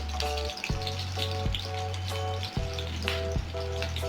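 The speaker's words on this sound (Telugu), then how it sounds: "ఇవి లైట్గా గ్రీన్ చిల్లీస్ ఫ్రై అయ్యాక" Green chillies frying lightly in hot oil in a pan, a steady close sizzle with a few brief pops and stirring clatters, no voices.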